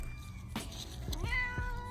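A house cat meows at close range, a couple of clear rising cries standing alone with no talk over them.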